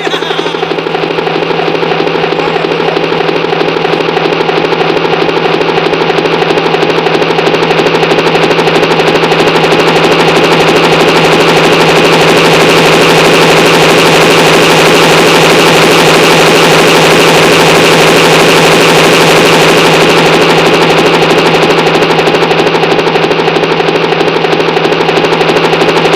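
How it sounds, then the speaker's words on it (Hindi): A helicopter approaching, a loud, steady engine drone with a fast rhythmic rotor chop running unbroken throughout, with no talking. "तो मैंने हेलीकॉप्टर बुलवाया, देखो आ रहा है, वो देखो आ रहा है।"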